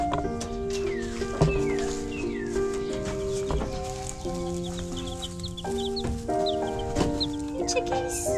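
Newly hatched chicks, including a tiny frizzle, cheeping in high repeated peeps close by, with other farm fowl clucking and calling in the background.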